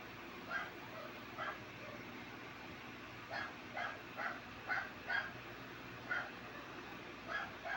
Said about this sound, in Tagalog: Sumisingit ng kahulang aso.